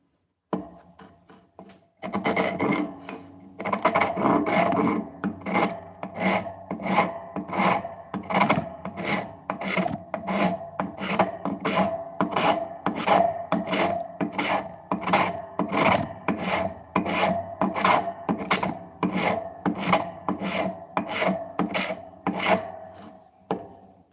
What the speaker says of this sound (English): We'll go with a little rasp action